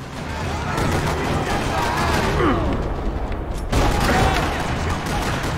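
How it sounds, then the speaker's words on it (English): Dense, continuous gunfire in Max Payne 3 rattles throughout a parking lot battle, with rapid overlapping shots and explosions filling the soundscape. "Another parking lot rattling with gunfire."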